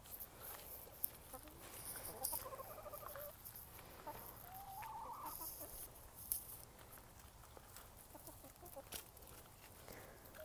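Rhode Island Red, Golden Comet and Leghorn hens cluck faintly in a backyard, soft low murmurs and occasional clucks scattered over quiet ambient noise.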